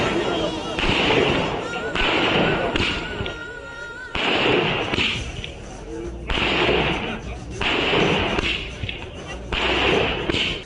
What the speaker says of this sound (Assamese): উৎফুল্লিত তামুলপুৰবাসী ফটকা ফুটাই আনন্দত আত্মহাৰা হৈ পৰিছে সকলো